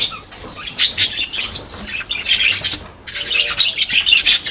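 Pet parrots kept at home chirp and squawk in bright, busy bursts while wings flutter now and then, close and lively, with no talking.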